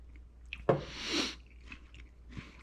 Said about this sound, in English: It's crunchy, delicious, crisp, iceberg lettuce.